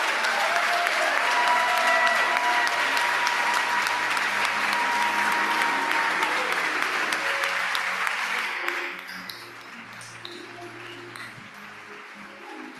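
Sustained applause at an awards ceremony greeting three named award winners as they are called to the stage, a steady wash of clapping that fades to quieter scattered claps near the end.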